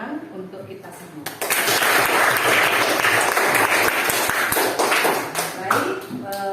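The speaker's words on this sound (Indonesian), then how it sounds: "Boleh dong tepuk tangan untuk kita semua." Students in a classroom burst into loud applause, a dense patter of claps that starts after a brief voice and carries on with some chatter and shouts before easing.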